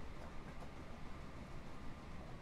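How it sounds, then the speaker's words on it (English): Train running in the Voxel Tycoon video game, a quiet steady rolling rumble with faint rail rhythm, continuous and low in level throughout, no voices. "this is a much more powerful train"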